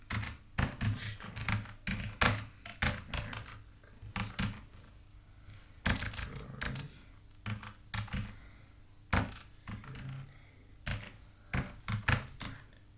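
Computer keys are typed in uneven bursts of sharp clacks, with short pauses between runs, close and fairly quiet against a low steady hum.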